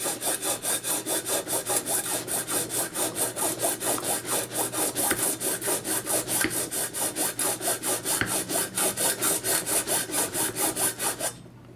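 A hand file rasps rhythmically back and forth across a silver piece to remove its surface layer, giving steady, evenly spaced strokes, close and fairly loud, for about eleven seconds.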